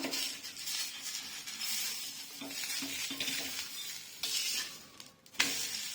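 Ghee-cooked atta dosa sizzles steadily on a hot pan after being flipped, a close, soft continuous crackle with occasional clinks and scraping of a utensil against the pan.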